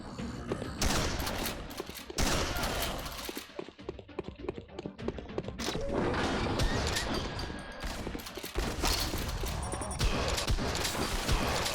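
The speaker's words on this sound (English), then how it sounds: "Double barrel shotgun sounds pretty cool, actually." A double-barrel shotgun fires in a video game amid dense, crackling bursts of gunfire that come in loud, clustered volleys with brief lulls between them.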